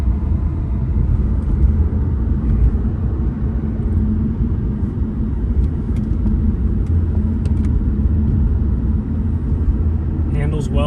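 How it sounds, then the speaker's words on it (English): A 1997 Jaguar XJ8 drives along a road, giving a steady, loud low rumble of engine and road noise inside the cabin that stays even throughout, with someone talking over it. "All right, so out for a quick drive here in the 97 Jaguar."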